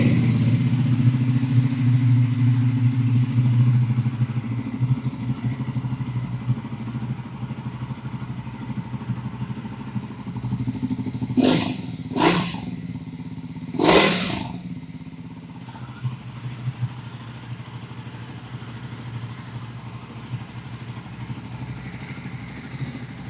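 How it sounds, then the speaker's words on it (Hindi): A Triumph Speed 400 motorcycle engine idling steadily close by, a low continuous rumble, with a few sharp clacks partway through before the engine sound settles. "अपनी बाइक की जो साउंड है और नॉइज़ अगर उसमें है या नहीं वो पहले आप लोग सुन लीजिए"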